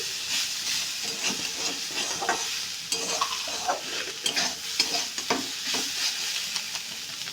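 Banana flower curry spiced with cumin and coriander powder sizzles and hisses in a pan while a spoon stirs it, with irregular scraping knocks over the steady frying noise.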